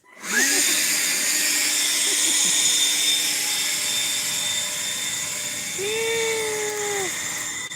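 A leaf blower fans a backyard bonfire, its steady high whine and rushing air starting abruptly and running loud and close throughout, with pitch shifting briefly as the motor speeds up.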